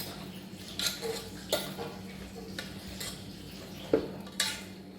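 Beef being stirred with salt in a pan, the spoon giving a few sharp metallic clinks and scrapes at irregular intervals over a steady low background hum.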